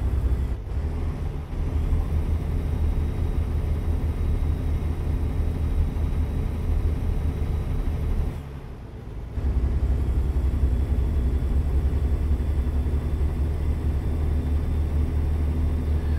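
Truck engine driving in American Truck Simulator, heard from an exterior view: a steady, loud, continuous drone and rumble with one brief dip partway through, no talking.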